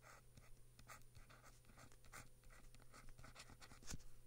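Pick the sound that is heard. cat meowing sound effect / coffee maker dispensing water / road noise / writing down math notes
writing down math notes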